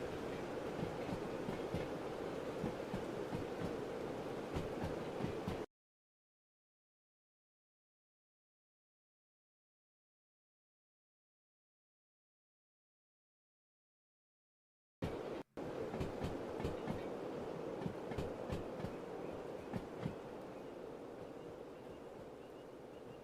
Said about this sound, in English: that's what an 850 ton train looks like. With a DE2 and a Slug.